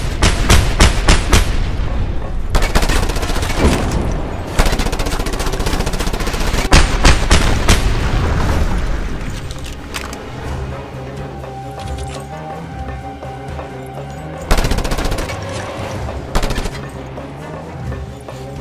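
Heavy machine gun fire in the video game Just Cause 2, loud, near bursts of rapid automatic shots with loud impacts and explosions mixed in, easing into quieter sustained gunfire and a few more bursts, with no talking.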